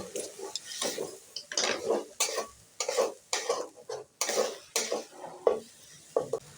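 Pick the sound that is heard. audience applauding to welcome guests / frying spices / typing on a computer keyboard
frying spices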